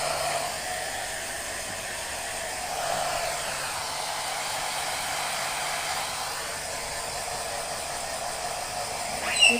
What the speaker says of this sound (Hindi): अब उसको ड्रायर चाहिए लास्ट में।